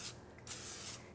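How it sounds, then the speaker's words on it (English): Cooking spray hisses onto chicken pieces for oven-fried parmesan chicken in two close bursts, a short one and then a longer one, with nothing else heard. "spray it with cooking spray"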